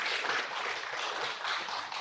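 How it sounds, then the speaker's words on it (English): An audience closing a fall 2020 last-lecture event gives a dense, continuous round of applause that stays fairly soft and even throughout, with no talk over it. "Please give one more round of applause to Mr. Tim Byers"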